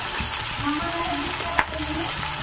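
Chopped tomatoes frying in a pan, a steady close sizzle with the spatula scraping now and then and one brief clack of metal near the end.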